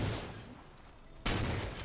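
A video game explosion in Halo 4 bursts in loud and broad after a stretch of dense, rumbling gunfire and combat noise, then holds at full level to the end.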